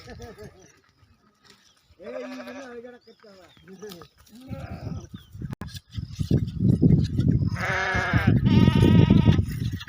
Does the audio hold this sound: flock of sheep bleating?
yes